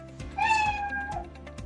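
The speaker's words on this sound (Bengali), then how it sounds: "ক্যাটের এখানে দেখি যে সাউন্ড বলছে মিউ" The Scratch cat meow sound effect plays once, a clear, close, drawn-out meow with a falling tail, heard alone over a faint steady background.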